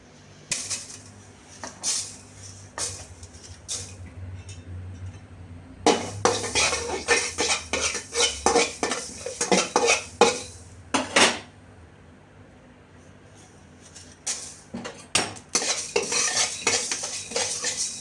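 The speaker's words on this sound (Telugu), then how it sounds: "జీలకర్ర మెంతులు జీలకర్ర మెంతులు ఈ దూర వేయించి పిండి పడతా" Cumin and fenugreek dry-roasting in a pan for tomato chutney, a metal spoon scraping and clinking against the pan in irregular bursts, louder in the middle, with faint sizzling beneath.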